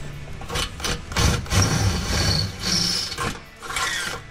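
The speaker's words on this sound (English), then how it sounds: "Now we're gonna get our 3/8 inch bit and widen these holes out so we can get our bolts and mount the receiver properly" A drill with a 3/8 inch bit widens pilot holes while mounting a tow hook receiver on a 2015-2023 Dodge Charger, giving steady close grinding bursts with brief dips between them and no speech.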